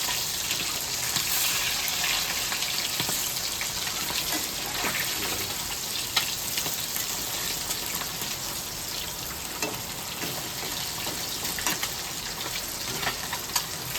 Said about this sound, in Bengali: ভাজা হতে থাকে এই পাশটা